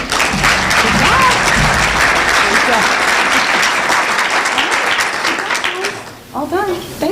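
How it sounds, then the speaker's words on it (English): Loud, sustained applause from a large crowd at a school board meeting, dense clapping that fades out near the end while a few voices carry over it. "A round of applause for them"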